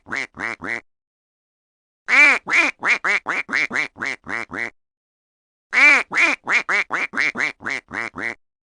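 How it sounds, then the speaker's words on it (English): A duckling quacks in three quick bursts of repeated, high, bright peeps and quacks, close and clear, with short silences between the runs. "duckling"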